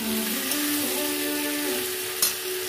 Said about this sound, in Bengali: এইটুকু চিনি দিয়ে দেবো। তেলের উপরেই দেবো